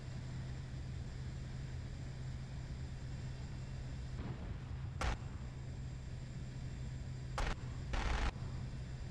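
Aircraft guns fire in a combat flight video game, heard as a few short, sharp bursts over a quiet, constant low engine drone.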